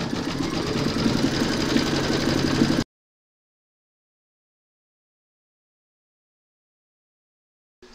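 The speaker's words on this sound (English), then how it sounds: "Load your black bobbin and thread into your machine, and now you're going to stitch round number two." An embroidery machine stitches free-standing lace with black bobbin thread, a loud, close, steady mechanical whir and rapid needle chatter for about three seconds before cutting off to silence.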